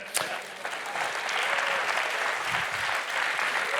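Applause from an audience swells after a sharp opening clap and settles into a steady, moderately loud mass of hands.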